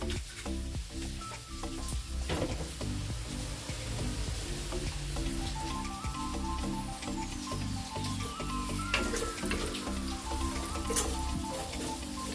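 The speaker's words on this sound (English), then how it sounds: "Let the rosemary toast in the oil for a few minutes" Rosemary toasting in hot oil in a pot gives a steady, soft sizzle and crackle that runs evenly throughout, with faint tonal sounds in the background and no talk.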